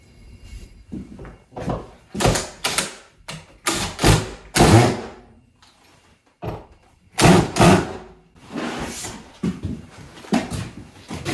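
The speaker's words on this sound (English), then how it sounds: "We got all the screws into the drywall in the kitchen." Screws being driven into kitchen drywall make a run of close, loud bursts and thuds with short pauses between them, each burst sounding like a drill driving a screw, no speech.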